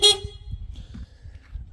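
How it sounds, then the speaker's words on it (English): Stock horn of a 2004-2009 second-generation Toyota Prius, giving one short, bright honk at the start before fading into low engine and road rumble. "Here's the stock horn."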